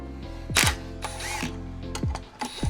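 Ratchet working a 10 mm bolt on the oil pickup of a Nissan KA24DE engine during teardown, giving several short bursts of close, dry clicking with brief pauses between strokes.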